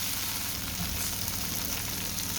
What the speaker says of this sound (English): It's been frying for nearly 2 minutes.